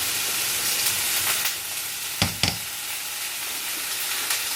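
Steady sizzling of food frying in a pan, a constant hiss with a couple of brief clinks partway through.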